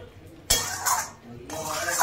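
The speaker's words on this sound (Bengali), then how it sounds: "হাই ফ্লেম করে এটাকে আমি ভালো করে কষিয়ে নেব।" Chicken mince is stir-fried in a pan over a high flame, with loud bursts of scraping and clattering from the utensil against the pan over a steady background hiss.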